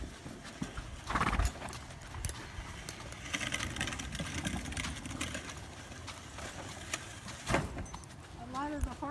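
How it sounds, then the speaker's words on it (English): Horse hooves clip-clop at a steady walking rhythm on a hard surface, with a couple of louder thuds and people talking faintly in the background. "It's a big horse."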